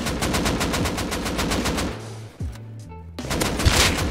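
Automatic gunfire in the survival game Rust, a fast continuous stream of loud shots for about two seconds, a brief pause with a thump and low tones, then firing resumes.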